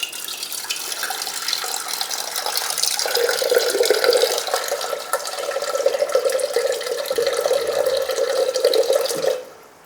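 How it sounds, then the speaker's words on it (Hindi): Water pours steadily into a pressure cooker of thick langar-style dal on a lowered gas flame, a continuous splashing stream that carries on for several seconds and then stops abruptly. "तो हम उसी कुकर में थोड़ा सा पानी डालकर इसमें पानी मिक्स करेंगे।"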